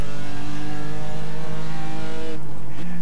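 BMW M4 GT4 race car engine in the iRacing simulator holds a loud, steady high drone at close range, then drops abruptly as the driver downshifts toward second gear for a corner.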